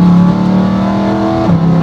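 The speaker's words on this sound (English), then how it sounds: "this is not your average exhaust" A loud, raspy straight-piped BMW E92 M3 exhaust revs hard and holds a high drone, then dips briefly and climbs again, harsh and close.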